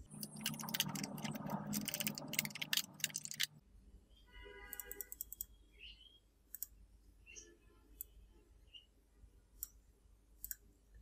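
Computer mouse clicks while working in Excel, a dense burst of rapid clicking at first, then sparse, faint single clicks spaced over the quieter remainder.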